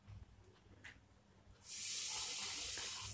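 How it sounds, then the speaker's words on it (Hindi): Water pours from a vessel into sama rice khichri cooking with spices in a pan, a quiet stir-fry crackle giving way to a loud, steady hissing gush that runs to the end. "और अब मैं डालूंगी उसमें पानी।"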